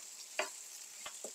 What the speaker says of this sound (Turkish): Şöyle birkaç dakika daha böyle kavuruyoruz.